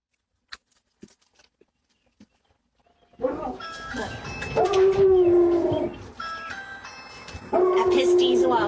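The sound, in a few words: dogs barking inside a house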